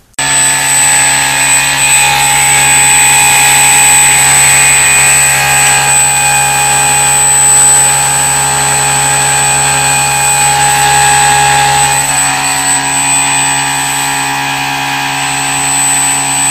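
A brushless RC motor driven by a Hobby King Red Brick 30A ESC runs steadily at under half throttle, a loud, constant high-pitched whine with a droning hum beneath, dropping slightly in pitch near the end.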